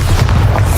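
Bombarda blasting spell in Hogwarts Legacy: a single short, loud, deep boom with a rumbling burst, close and alone.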